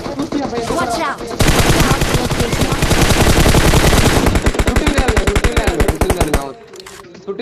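Sustained bursts of rapid automatic gunfire from a video game firefight, loud and dense for several seconds before easing into slower, spaced shots, with excited players talking over the action.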